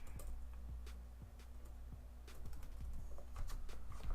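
Quick, light keystrokes on a computer keyboard tap out a fast irregular rhythm, close up and faint against a steady background hum.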